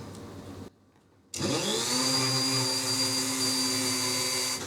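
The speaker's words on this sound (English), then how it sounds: "When I have it placed the way I want it, I'm going to drill it down in here too." A power drill driving a screw into resin whirs steadily after a brief silence, its motor pitch rising then holding for several seconds, loud and close.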